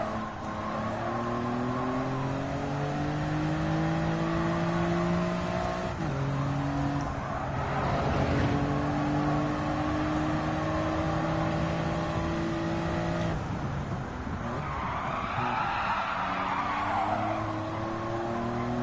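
Race car engine from the Gran Turismo 7 video game, Toyota Gazoo Racing GT Cup, rising steadily in pitch through the gears with sharp shifts and a brief tire squeal, loud and continuous with no talking.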